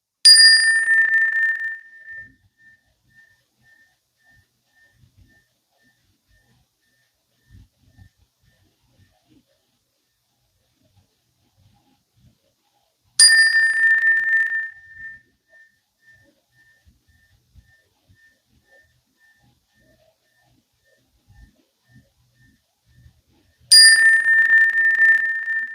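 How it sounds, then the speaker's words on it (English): A meditation bell is struck three times at roughly twelve-second intervals, each clear ringing tone sustaining and slowly fading into near silence before the next strike. "So close your eyes and just hear the frequency of the bell."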